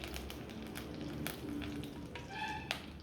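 Mustard seeds and curry leaves frying in sesame oil for a Tamil keerai kootu, a steady low sizzle with scattered crackling pops and one sharp spit near the end.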